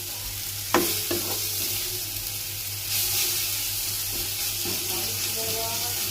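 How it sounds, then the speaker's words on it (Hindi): Frying with salt and turmeric sizzles steadily in a home kitchen pan, a loud continuous hiss with a couple of clanks of a stirring spoon near the start, close up, no talking. "नमक हल्दी डाल दूँगी। इसको अच्छे तरह से फ्राई करेंगे।"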